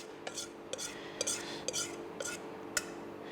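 Tahini sauce spooned over beans for Antalya piyazı, with soft repeated scraping clinks of a spoon against a dish, about six light strokes, near and alone.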